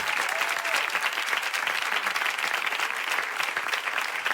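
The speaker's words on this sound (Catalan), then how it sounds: "Aplaudiment per la Bruna del David Verdaguer," A studio audience at a Catalan comedy talk show applauds for Bruna, a dense, steady wash of many hands clapping that holds at an even level from start to finish with no talking over it.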